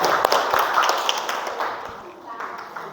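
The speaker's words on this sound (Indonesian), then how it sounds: "tepuk tangan dulu untuk Mbak Yuniar." Audience in a classroom presentation session clapping together for a presenter, a dense burst of applause that gradually thins out over a few seconds, close and fairly loud with some voices mixed in.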